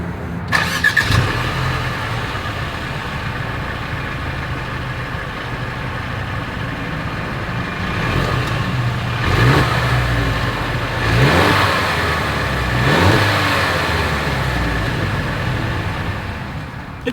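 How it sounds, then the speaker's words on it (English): A 2022 Mercedes-Benz GLC 300 engine idles with a low exhaust rumble, then revs up several times in rising, roaring bursts before settling back down. "As always, here is that exhaust clip."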